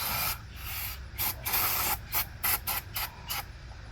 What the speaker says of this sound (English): I'm gonna spray it off.